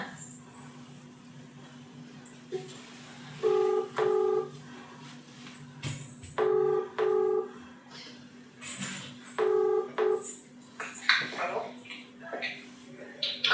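Phone keypad tones sound in three quick bursts of paired beeps as a number is dialed on loudspeaker, over a steady low hum, with voices talking around them.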